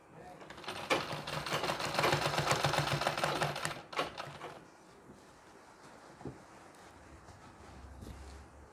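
A sewing machine stitches pleats into a Nauvari saree, running in a fast rapid rattle for about four seconds, then stopping with a brief burst before fading to quiet handling; soft talk is heard afterward.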